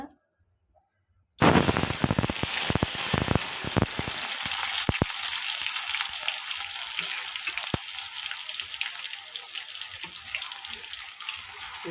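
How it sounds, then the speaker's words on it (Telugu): Ginger paste, onions and green chillies hit hot oil after a brief silence, bursting into loud, steady sizzling and crackling that keeps going close up, with no talking. "అల్లం పేస్ట్ ఉల్లిగడ్డలు పచ్చిమిర్చి వేసినాం"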